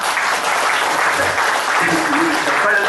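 Audience applause at a book release, dense steady clapping from a hall crowd, loud and continuous for a few seconds.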